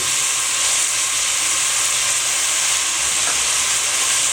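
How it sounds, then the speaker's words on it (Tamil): Ginger garlic paste with salt sautéing in a pan for vermicelli, a loud, steady sizzle and frying hiss that runs unbroken and close, with no talking. "நல்லா வதங்கட்டும்."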